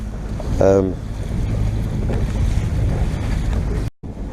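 Small motorboat bouncing over rough seas, a constant heavy rumble of engine, wind and water with a brief whine early on and a sudden cut near the end.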